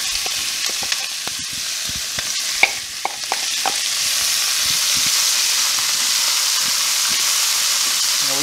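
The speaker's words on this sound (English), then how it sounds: "it's time to get our onions in the pan" Onions dropped into a hot pan over lowered heat for a green chili stew sizzle loudly and steadily, with scattered stirring scrapes and clicks close up and no voices.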